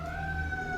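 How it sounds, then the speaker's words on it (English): Emergency vehicle sirens wail steadily in the far background, a faint, sustained tonal whine with no talk over it. "And I do apologize for all of the sirens"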